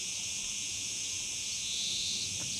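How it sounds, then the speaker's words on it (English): A steady, high-pitched insect drone fills the air continuously, a dense chorus of cicadas in Mallorca heard alone with faint background. "with the cicadas."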